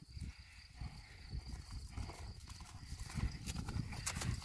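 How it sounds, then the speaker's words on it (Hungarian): A small horse approaches in Mencshely near Lake Balaton, Hungary, its hooves clip-clopping in a steady rhythm that grows louder as it nears. Insects chirp faintly in the background. "Jön a kicsi ló."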